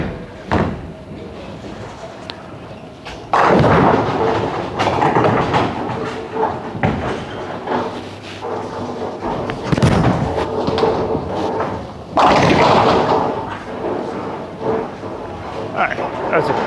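A bowling ball rolls down a lane and smashes into pins in a bowling alley, a rumbling roll followed by loud crashing impacts, repeated amid the noise of other lanes and nearby talk.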